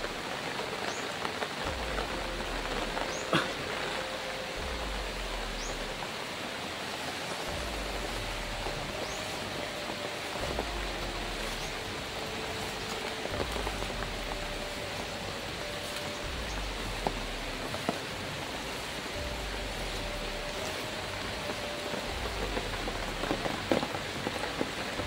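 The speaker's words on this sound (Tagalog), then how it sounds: "Ulan na." Steady rain falls and patters on surfaces, a constant even hiss throughout with scattered louder drops and a low intermittent rumble beneath, with no voices.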